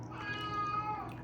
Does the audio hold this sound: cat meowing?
yes